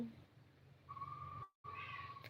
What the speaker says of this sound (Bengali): আওয়াজ দিচ্ছে ম্যাও